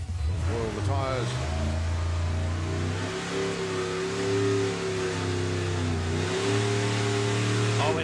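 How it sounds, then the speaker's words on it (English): A 1957 Chevy drag car at a Santa Pod Raceway drag racing event revs loudly and steadily in the burnout box, its engine note rising and falling over eight seconds, close by and dominant. "57 Chevy coming up to the burnout box"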